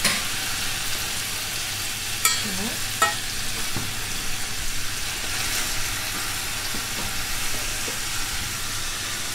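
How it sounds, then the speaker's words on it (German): Precooked potato cubes fry in butter in a pan, giving a constant close sizzle with a few brief clinks and stirring scrapes near the start, and no one speaking. "die gebe ich mir jetzt so einfach ein bisschen in der Butter rein und so lassen wir es leicht anbraten"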